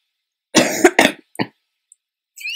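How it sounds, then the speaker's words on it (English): Two or three harsh coughs close to the microphone, followed by a short throat-clearing burst and then quiet. "sorry about my very bad cough,"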